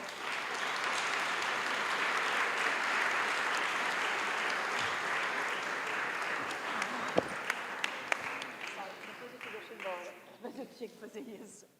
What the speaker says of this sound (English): So please, I ask to applaud her.